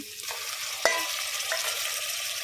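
Ginger garlic paste hits hot oil with onions and green chillies for aloo fry biryani, giving a steady, close sizzle. A sharp clank of a utensil sounds near the start, and no one talks.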